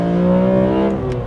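A BMW M3 CSL engine holds steady, loud revs as it builds up before a hard launch, a strong sustained tone heard close up with no talking over it.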